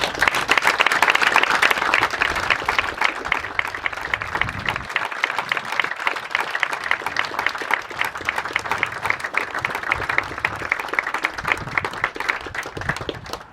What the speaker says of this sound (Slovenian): Predlagam, da jim namenimo en velik aplavz.